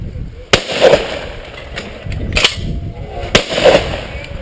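Shotguns firing at a sporting clays range, three sharp, loud blasts spaced about a second apart, each trailing a short echo, with voices talking between the shots.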